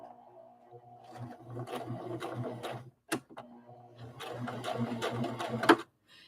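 Sewing machine stitching a rag doll, running in two bursts of rapid mechanical chatter with a brief pause between, close and clear with no talk.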